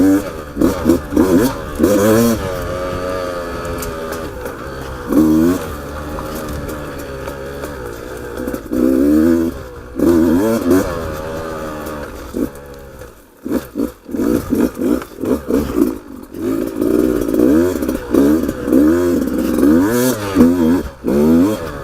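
A 2019 Beta 200RR dirt bike rides close and loud, its two-stroke engine revving and dropping again and again with rising and falling pitch, broken by brief throttle-off gaps.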